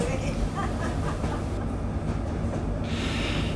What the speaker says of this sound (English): The train continues to rumble over its last mile of track